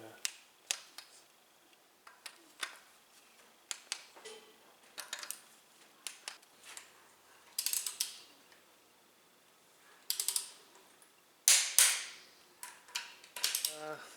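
A ratchet clicks in short bursts while bolts are tightened on a Ford Fiesta engine top end, the sharp ticking runs repeating close by with brief pauses between them.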